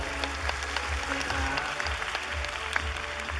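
A crowd claps steadily at a charity anniversary event, sustained applause with scattered sharp claps throughout.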